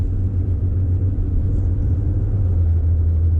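2019 GMC Canyon All Terrain pickup with a V6 engine, heard from inside the cabin while driving in traffic at an everyday pace: a steady, fairly quiet low rumble that holds even throughout, with no talking.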